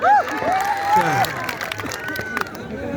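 Audience clapping and cheering at a Bhojpuri stage show, a loud crowd burst rising under a voice at the start, then fading into scattered claps and murmuring.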